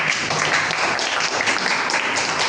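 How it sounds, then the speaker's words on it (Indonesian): Classroom applause for a student after a small-group teaching presentation, a steady patter of many hands clapping together, fairly close and continuous with no talk over it. "Tepuk tangan untuk Mas Alif."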